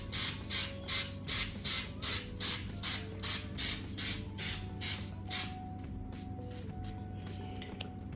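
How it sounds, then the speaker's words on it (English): Spray paint applied to a textured planter in a rhythmic series of about a dozen short hissing bursts, then quieter rattling and creaking, close to the mic. "I love this spray paint because it does a really good job on coverage the first time around"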